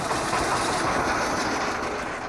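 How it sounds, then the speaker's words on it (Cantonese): A fishing boat's motor runs on a river, a close, continuous droning rumble with a steady mechanical rhythm and no voices. "漁船嘅馬達聲再次響起。"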